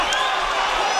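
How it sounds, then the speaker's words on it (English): A boxing crowd at the Toyota Arena roars in a sustained wash of cheering and whistles during a Jarrett Hurd vs Amando Resendiz fight, loud and continuous for a brief moment. "The crowd here at the Toyota Arena thrilled by every second."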